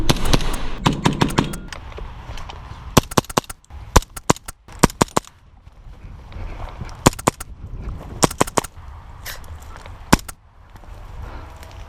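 Sharp, close shots from a Novritsch SSP1 airsoft pistol on an outdoor field, firing in quick clusters of two to five separated by brief pauses, with faint ambient noise between the bursts.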